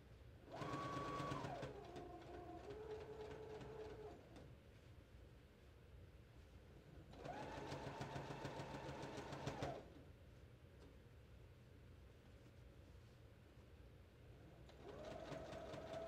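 A sewing machine stitches dress fabric in three bursts, roughly two to three seconds each with pauses of quieter room noise between them, its motor whirring with a steady rising and falling hum.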